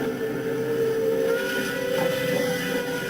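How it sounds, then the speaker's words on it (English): A steam engine whistle blows a long, steady, hissing tone with a slight wavering pitch, loud and close, carried over continuous steam noise for the full few seconds. "The engine whistled again."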